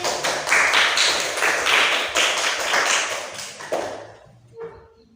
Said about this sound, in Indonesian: Tepuk tangan Luis.